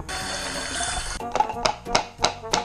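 Tap water runs into a sink in a steady close rush for about a second, then breaks into a series of uneven splashes and clunks as the flow is caught or moved, with a voice briefly heard.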